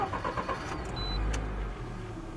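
A LADA 4x4 Niva engine turns over and catches, settling into a steady low idle hum that continues to the end.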